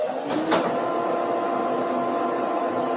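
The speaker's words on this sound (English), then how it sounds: "And now we're going to add our dust extractor" A dust extractor runs in a woodworking shop beside a lathe, giving a steady close whirring hum with a brief swell near the start as it spins up.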